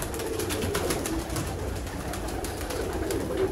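Young pigeons kept for sale coo softly in a loft, faint low calls repeating among light background noise, no talking.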